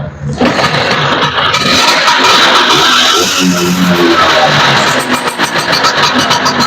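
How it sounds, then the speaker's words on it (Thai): Vespa scooter engine starting and running, a loud close mechanical roar that holds steady throughout, with a voice talking over it. "ปกติมันต้องกดสองที ก็คือเปิดรถทีแรกแล้วกดอีกทีนึงเพื่อสตาร์ทรถ"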